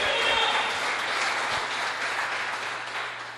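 A church congregation breaks into steady applause during a sermon, a dense wash of clapping that stays fairly even and close throughout before easing slightly at the end, with no talk over it.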